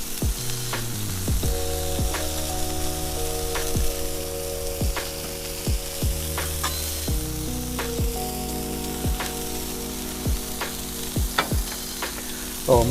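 Smash burgers with onions sizzle on a Blackstone griddle, a steady close frying hiss broken by sharp taps and scrapes as the patties are pressed down.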